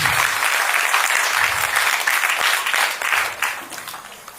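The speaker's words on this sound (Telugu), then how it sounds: "సో గురుజీ వాళ్ళ కోసం అండి ఒకసారి బిగ్ క్లాప్స్ అండి" Audience at a rank celebration event in a resort hall gives big applause, a steady wash of many hands clapping loudly for a few seconds before tapering off slightly at the end.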